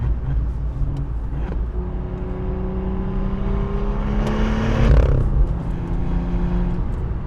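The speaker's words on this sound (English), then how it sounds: "hearing the gears whining a little bit, hearing the exhaust note really resonating through the trunk back into the side of your head" Inside an early BMW M2 with the rear seats removed, a rising gear whine and a booming exhaust note resonate through the cabin as the car accelerates, swelling louder for a moment before settling into a steady drone.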